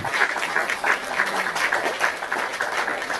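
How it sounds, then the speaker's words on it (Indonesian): Audience applause, a continuous patter of many hands clapping at moderate volume for about three seconds, alone without speech. "Kita kasih tepuk tangan Diono ya, tepuk tangan."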